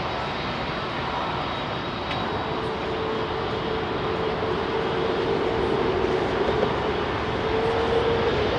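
An Airbus A300 jet roars at London Heathrow Airport on a busy evening, a steady broad engine drone that holds at a moderate distance and swells slightly toward the end.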